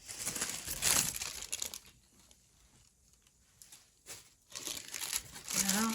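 A tissue-paper napkin crinkles and rustles in bursts as it is lifted and handled during decoupage, close and soft, with a quiet pause in the middle.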